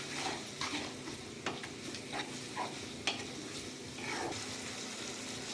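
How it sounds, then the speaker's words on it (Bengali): Gravy of red chili sauce, tomato sauce and soy sauce stirred in a frying pan, a low steady sizzle with repeated spoon scrapes and soft knocks against the pan, close and without speech. "Red chilli sauce, tomato sauce, soya sauce, সবগুলো এর সাথে ভালো করে মিক্স করে দেবো আমি।"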